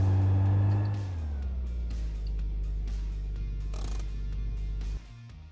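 A rally car's engine held at full throttle in the video game My Garage, a loud steady drone that eases slightly after the first second and then drops abruptly near the end, with no talking.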